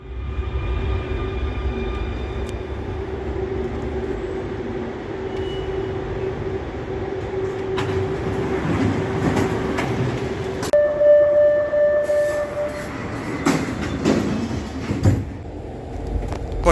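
A Barcelona metro train runs through a tunnel, recorded from the front of the car: a loud, continuous rumble and rail roar with steady tonal whine, occasional clicks and clacks, and rising squeals and surges near the end.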